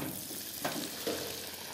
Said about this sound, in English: Alright, I already preheated my oil, so it's ready for some frying. Let's dip the chicken nuggets in there.